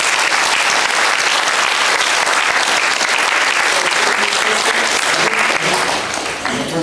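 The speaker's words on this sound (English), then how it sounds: "So please a round of applause for our family." Loud, dense audience applause fills a panel event at a Greenwood city and county gathering, sustained clapping from a crowd that tapers slightly near the end.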